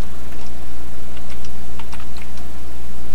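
Keys clatter in quick, uneven bursts while a command to install LibreCAD through apt-get goes in on an Ubuntu or Arch Linux machine, set against a steady low hum with no voices.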